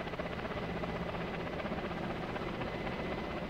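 An Apache helicopter in the video game ARMA drones steadily with a dense, rumbling rotor and engine wash at moderate distance, constant throughout without talk.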